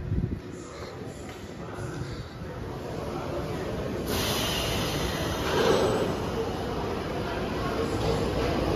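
The Kraken roller coaster train at SeaWorld Orlando rumbles along its track in a continuous low roar with faint wheel squeal, heard from some distance and fairly quiet.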